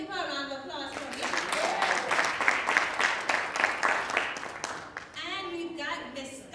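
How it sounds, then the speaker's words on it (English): An audience applauds at a Women's Day girls' panel event, a sustained burst of clapping that swells and fades, with a voice speaking over its start and end. "Give her a round of applause for me."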